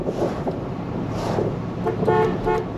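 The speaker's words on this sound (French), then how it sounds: "Un klaxon qui fonctionne." The horn of a 1972 Buick Riviera boattail sounds in a few short toots near the end, close and fairly loud over a steady background hum.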